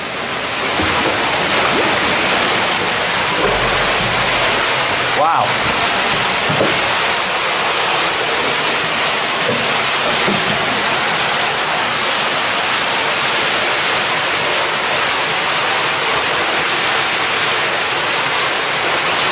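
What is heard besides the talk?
rushing water inside a mine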